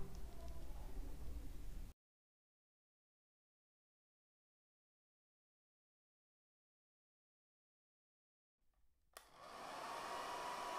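A hair dryer whirs loudly for a couple of seconds, speeding the drying of crackle paint, then cuts to silence before the steady blowing hum starts up again and builds.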